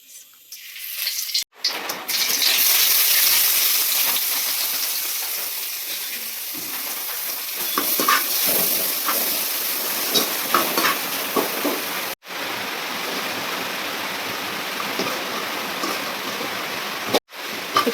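Chana masala made from overnight-soaked chickpeas cooks in a pan, giving a steady close sizzle with scraping stir strokes, broken by a couple of short pauses and no talking.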